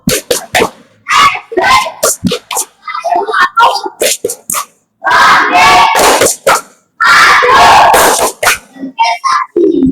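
A school assembly performs the Tepuk SD Kayu Apu clapping chant, loud group voices chanting in rhythmic phrases punctuated by sharp bursts of hand claps, close and energetic.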